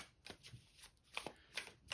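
A deck of thick, stiff cardstock cards with a rose petal finish being shuffled, several quick riffling bursts and soft slaps in close succession, near and crisp with no talking.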